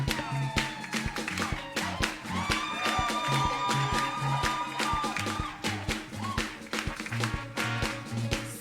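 Worshippers at a Christian seminary session cheer and acclaim over music, with shouts, whoops and scattered clapping rising from a crowd across the whole stretch while voices sing and call out.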